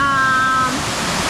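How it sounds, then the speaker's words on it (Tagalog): Strong, steady rush of a waterfall swollen by rain at Lohas Park Falls, a dense broadband roar filling the whole short stretch, with a few faint tonal whines in the background. "lumakas nga yung agos ng tubig"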